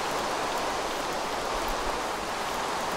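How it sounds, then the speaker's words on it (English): Steady rain falling in the video game Minecraft, a dense even hiss of downpour with no pauses, no talk. "Stop raining and come morning."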